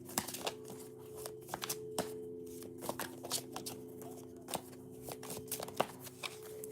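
A deck of oracle cards is shuffled by hand nearby, soft repeated riffling and flicking with quick irregular bursts over a steady low room hum.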